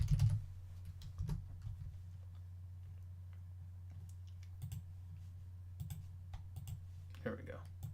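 Faint, sparse keyboard typing on a computer, scattered soft clicks over a steady low hum in a quiet room.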